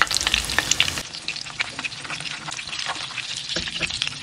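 Chicken snack pieces fry in hot oil with a steady, close crackling sizzle, joined by occasional stirring clinks and scrapes in the pan.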